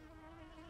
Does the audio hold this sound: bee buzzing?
yes